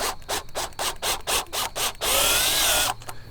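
A DeWalt drill drives a SpeedOut screw extractor bit into a screw in rapid bursts, with stuttering grinding pulses followed by one sustained high whir, up close.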